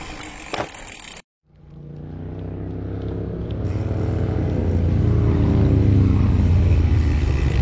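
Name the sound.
motorcycles passing by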